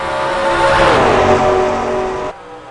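Race cars bump drafting down the straight at Homestead in a racing game, loud engines roaring close together with a rising and falling pitch as they pass, cutting off abruptly near the end.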